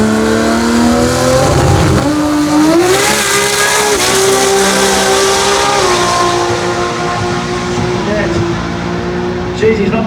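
At a Brisbane drag-racing jamboree, a race car screams through its gears with rising and falling engine pitch, loud and close, while an announcer talks over it.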